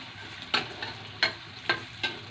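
Shallots, garlic, chili, tomato and lime leaves fry together in a pan, a steady sizzle broken by four scraping stir strokes at roughly even intervals, with no voices.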